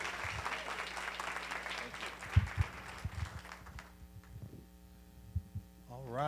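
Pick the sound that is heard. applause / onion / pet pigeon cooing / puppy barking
applause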